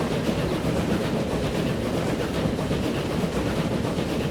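A train runs along a railway line on a mountainous UK map in Transport Fever, a continuous low rumble with faint rhythmic clatter that stays constant, with no talking.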